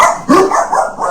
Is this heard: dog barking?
yes